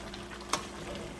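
Vegetable soup with crayfish being stirred in a pot, a soft continuous bubbling simmer with one brief clink of a spoon against the pot, no voices.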